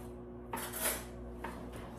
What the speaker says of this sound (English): Hiwain ko lang to siya, guys, kasi nga hiwa ko yung pork steak.